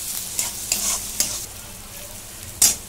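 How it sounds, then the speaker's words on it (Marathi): Onion with ginger-garlic paste fries steadily in a pan, a continuous close sizzle broken by a few sharp scraping clicks of a spatula stirring, with no talk. "आता कांदा लालसर होईपर्यंत मी भाजून घेते"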